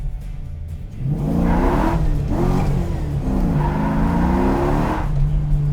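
A custom 1971 Plymouth Cuda with rack-and-pinion steering and a K-member system revs hard inside the car, its engine climbing in pitch, dropping through a shift, then winding up again, loud and continuous.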